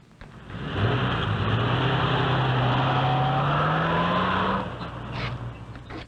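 A taxi cab pulls up and drives off in a 1950s city street scene, its engine swelling into a steady, loud running hum for several seconds, then easing away into quieter background.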